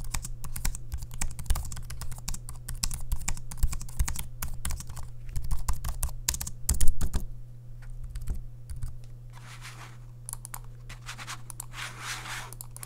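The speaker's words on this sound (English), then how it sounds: "here's a quick audio sample of me using the keyboard and the mouse" Rapid clicking of keys typed in bursts on an HP Envy 34 all-in-one PC keyboard, close and crisp, joined by mouse clicks and scrolling toward the end, over a low steady hum.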